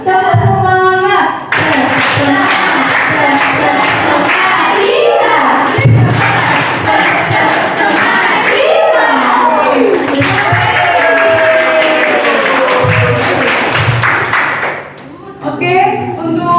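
Children in a classroom perform a rhythmic spirit clap, loud group clapping and chanting voices in a lively burst, with shouts throughout before it quickly fades at the end.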